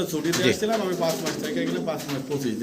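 Pigeons coo steadily at a pigeon farm, their soft, warbling calls close by and overlapping, while people talk over them throughout.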